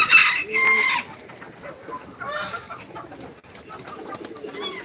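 Chickens cluck and a rooster crows nearby on a poultry farm, with bird calls scattered across the clip in a busy yard.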